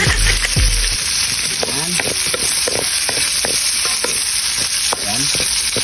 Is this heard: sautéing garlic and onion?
yes